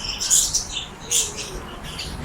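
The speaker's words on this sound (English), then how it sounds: "this is full of birds" Many caged birds chirp in a pet bird shop in Zhaoqing, China, with bright overlapping tweets in bursts over a steady busy background.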